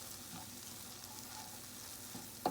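Bitter melon (karela) fries with spices in a pan, giving a soft, even, steady sizzle that stays faint and uninterrupted throughout.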